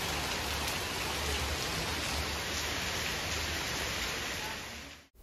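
Steady rain pours down near the airport in Sri Lanka, a dense, continuous broadband hiss of drops on surfaces that holds evenly at close range before cutting off abruptly at the end.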